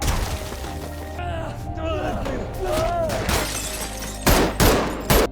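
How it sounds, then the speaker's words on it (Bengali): A few sharp bursts of gunfire from an action movie's commando shootout crack out near the end over tense music and sweeping effects. "বাড়ি থেকে জোসেফের দল অবিরত গুলি চালিয়ে যাচ্ছিল"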